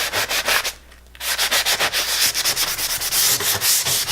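Painted wood is hand-sanded to build a distressed, aged patina, giving close, rhythmic scratchy rubbing strokes in a quick steady back-and-forth with one brief pause.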